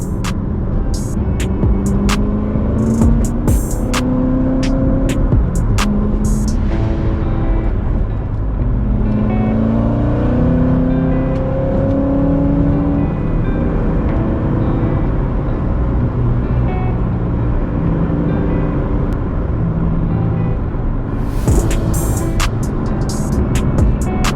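A Corvette Z06 cruises on the freeway, its engine and road noise forming a steady in-cabin drone that rises and falls gently with shifts, plus a few sharp ticks and clicks near the start and end.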